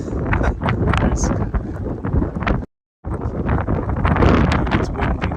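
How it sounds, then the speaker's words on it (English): Strong mistral wind at the Pont du Gard in France buffets the microphone in rough, continuous gusts, loud and close, with a brief dropout midway. "Now we're starting to feel those mistral winds."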